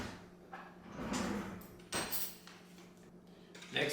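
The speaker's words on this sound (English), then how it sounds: "And all we're doing is stirring this up." Almond milk being stirred into a focaccia base in a bowl, with scattered clinks and scrapes of utensil against the dish at close range, a few louder knocks and no talking.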